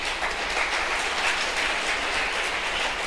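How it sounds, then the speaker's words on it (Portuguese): A church congregation claps together during a sermon, producing a continuous, even wash of applause that fills the space without breaks or voices. "Você pode aplaudir o Eterno?"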